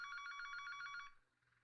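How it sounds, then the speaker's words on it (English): A phone rings indoors at home in a fast, trilling electronic warble that stops abruptly after about a second, quiet and alone. "I was at home, relaxing and killing time when I was startled by my phone ringing."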